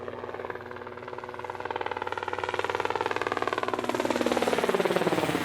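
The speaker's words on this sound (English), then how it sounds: "Now I know that one sounds like a helicopter." Helicopter rotor sound standing in for a flying car: a steady, loud, rhythmic chopping drone that holds throughout and swells slightly toward the end, with no talking.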